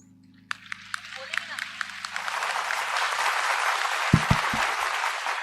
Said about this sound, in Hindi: दोनों हाथ उठाकर जोरदार तालियां गर्भ कल्याणक महोत्सव की।